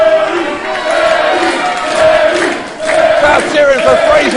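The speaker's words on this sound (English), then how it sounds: "Crowd cheering for Frazier." A wrestling crowd at a no-disqualification match roars and chants in waves, loud and close, with a commentator's voice partly audible under the noise.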